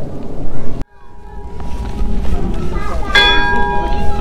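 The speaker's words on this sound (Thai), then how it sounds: "ได้ยินไหมคะเสียงระฆัง" Church bells ring out in a German town, sustained tolling tones rising over steady outdoor wind and rumbling noise, with a brighter strike partway through.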